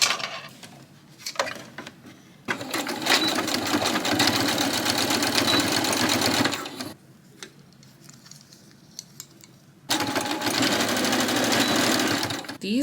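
A sewing machine stitches buckles onto backpack straps in two long, loud runs of rapid mechanical chatter, separated by quieter pauses with handling sounds. A voice talks only briefly.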